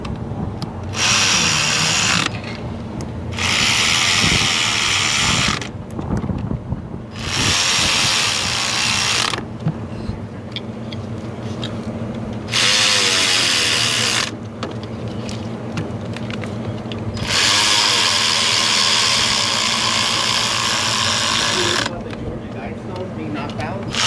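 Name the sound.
electric ratchet tightening valve cover bolts on Ford F450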